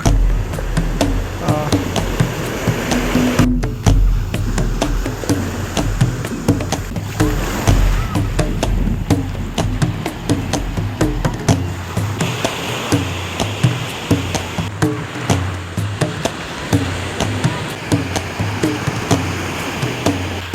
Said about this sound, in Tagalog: Medyo kakaiba lang yung alon dito